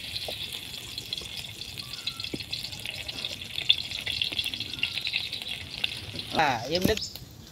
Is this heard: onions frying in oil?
yes